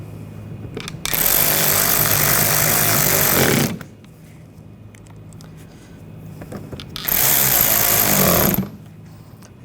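A power driver runs bumper trim screws into the front of a 2014-2020 Nissan Rogue, two loud sustained bursts of whirring a few seconds apart, with quieter shop background between them.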